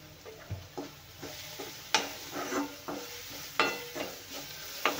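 Spices and black chickpeas are stirred in a pan with repeated scraping strokes of a spoon against the metal, each stroke a sharp rasp over a faint sizzle, close and moderately quiet, no voices.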